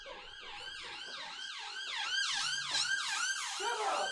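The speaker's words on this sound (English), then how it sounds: "Bloody ambulance, bro." An ambulance siren wails outside, its repeated rising and falling sweeps sounding steadily throughout and growing louder toward the end as it passes.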